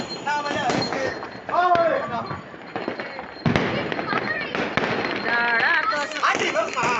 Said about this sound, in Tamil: வெடியெல்லாம் வெடிக்கிறாங்க, அதை போய் பார்க்கலாம்.